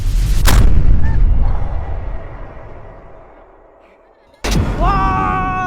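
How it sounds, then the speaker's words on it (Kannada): Two loud AK-47 rifle shots crack out several seconds apart, the first one's echo slowly fading before the second. "AK-47 gun ಹೊಡಿಯೋಣ"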